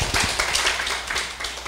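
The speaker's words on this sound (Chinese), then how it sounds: "请大家用掌声欢迎" A classroom audience applauding to welcome a lecturer, brief dense clapping from many hands, fairly close, with no talking over it.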